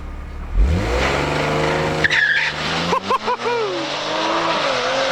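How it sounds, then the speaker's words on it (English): A tuned Audi SQ5 on stage 1 software with 91 octane fuel and a transmission tune launches at a drag strip, with a deep engine rumble, tire squeal and a rising rev that fades into the distance through gear changes. "so let's see how this manages to launch on the track"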